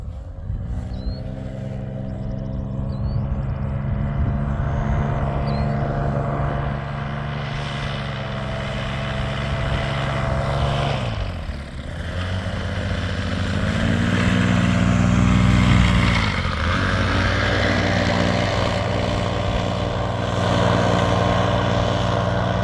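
A Dingo light aircraft's engine drones loudly and close by during takeoff. The propeller note rises and dips as power changes, then builds to a stronger roar toward the end.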